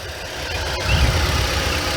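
A 2015 Mazda MX-5 Miata 25th Anniversary Edition with its 2.0-litre naturally aspirated four-cylinder idles up close, a steady low rumble with a slight swell midway and no voices.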